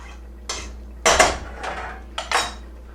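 A metal spoon scrapes and clinks against a pot of simmering Texas chili as minced garlic is stirred in, four or five close, distinct bursts of rattling contact.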